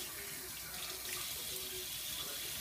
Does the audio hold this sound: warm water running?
yes